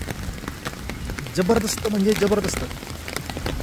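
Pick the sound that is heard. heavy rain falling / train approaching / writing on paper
heavy rain falling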